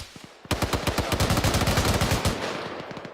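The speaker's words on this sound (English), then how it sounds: "It's gunfire, sorry." Rapid automatic gunfire during squad training, a long burst of sharp, evenly spaced shots, loud and close, preceded by a few scattered single cracks.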